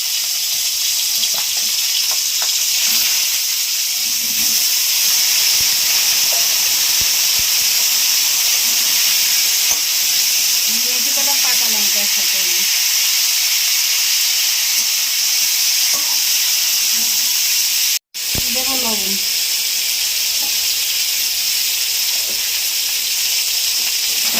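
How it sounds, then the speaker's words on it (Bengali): Banana pieces fry in hot oil with cumin seeds for a Bengali fish curry, giving a loud, steady sizzle and hiss, with stirring scrapes partway through and a brief cutout near the end. "জিরে ফোড়ন দিলাম তাহলে কলাগুলো দিয়ে দিচ্ছি"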